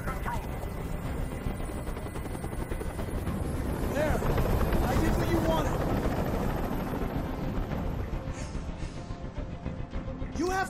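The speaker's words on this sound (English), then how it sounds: "I can't stand that noise anymore. Tell that helicopter to get out of here." A helicopter hovers close by in the video game Detroit: Become Human, a steady loud rotor drone with thudding chop filling the whole stretch, with scattered sharp bursts and faint sounds layered over it.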